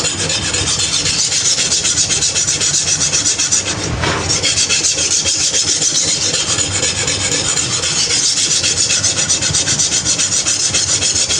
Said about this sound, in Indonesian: diamond plate 400 ya. Kita lihat nih, suaranya nih lebih halus ini daripada yang tadi ya